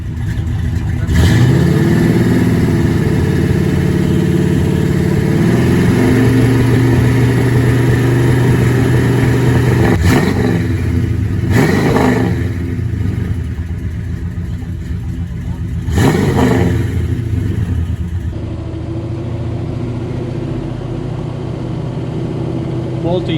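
A 1966 Pontiac GTO with a Tri-Power 389 engine cruises through a neighborhood, its steady engine drone continuous throughout with a few brief rising revs, while people talk inside the car over it.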